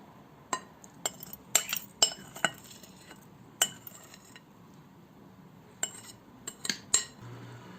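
A glass jar is picked up and handled while roasted red peppers are preserved, giving sharp glass clinks and light metallic taps at close range, scattered irregularly between quiet pauses.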